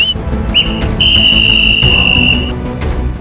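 A whistle is blown several times, with short shrill chirps followed by one long sustained blast and a final short toot, loud and close against a busy outdoor background.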